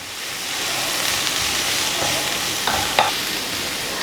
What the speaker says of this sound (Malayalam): ഇനി അതിനകത്തോട്ട് സവാള ചേർത്ത് കൊടുക്കാൻ പോവാണ്. ഇനി നന്നായിട്ടൊന്ന് ഇളക്കി കൊടുക്കുക.